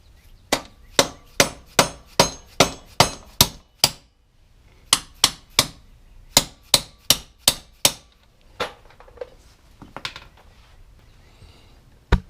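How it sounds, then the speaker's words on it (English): A dead blow hammer striking a half-inch socket to tap out the front axle of a Honda Goldwing: sharp metallic taps in steady rhythmic runs, close and clear, with short pauses and quieter scraping between strikes. "I'm going to take a 1/2-inch socket and its dead blow and see if I can kind of tap it out of place."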